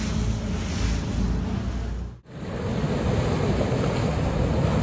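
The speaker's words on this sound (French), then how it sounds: "Il est créé par de puissants courants de marée qui s'engouffrent dans un canal étroit parsemé d'obstacles sous-marins." A strong tidal current surges through a narrow channel studded with underwater obstacles, a loud, steady broadband rush of turbulent water with a brief dip midway.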